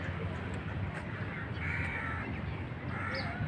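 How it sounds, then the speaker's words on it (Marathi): Crows caw repeatedly near a village lake, harsh calls rising over a steady outdoor background, some nearby and some farther off. "आता बघा पक्षी आणि उडत पण नाही ते पक्षी बघा"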